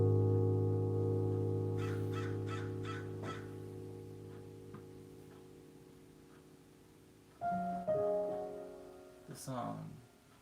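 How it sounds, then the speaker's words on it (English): Crows cawing outdoors in a short series of harsh calls, moderately distant, over a sustained musical tone that fades, with a few louder caws near the end. "Oh, the crows are back."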